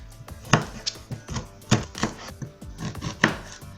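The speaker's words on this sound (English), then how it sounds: "I'm just going to slice this into round shapes" A knife chops fresh ginger into round slices on a cutting board, giving a series of crisp, irregular knocks close up, about eight distinct cuts with short pauses between them.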